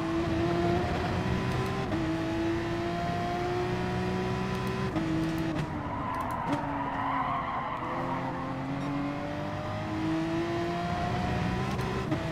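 A racing car engine in Gran Turismo Sport drones steadily through the whole stretch, its pitch rising and dropping with gear changes, with tires squealing and skidding at times.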